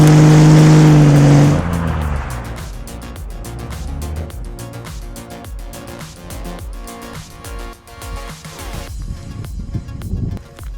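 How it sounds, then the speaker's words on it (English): Cummins diesel trucks on Bridgestone tires do burnouts: a loud engine roar at first, then a long stretch of rapid crackling, popping bursts and rumbling tire noise at close range. "we didn't have Cummins doing 120-mile-per-hour burnouts"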